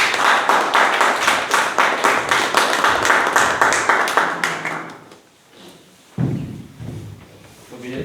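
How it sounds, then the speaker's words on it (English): At a Toastmasters-style club meeting, a small audience claps for a guest for about five seconds, with individual claps audible, then the applause fades and a voice begins speaking. "Mr. Vijay, please round of applause for Mr. Vijay"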